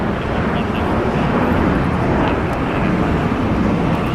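An executive jet operated by Next Jets at LAX airport, heard as a steady, loud broadband engine roar with wind noise, continuous throughout with no break, while a voice talks over it.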